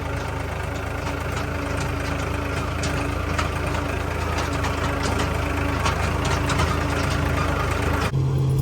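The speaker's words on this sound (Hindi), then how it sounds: "अपना ट्रैक्टर पास में लेके जा रहे हैं" A tractor engine drones steadily and loudly while driving out to a wheat field at harvest, a continuous low rumble that shifts in pitch near the end.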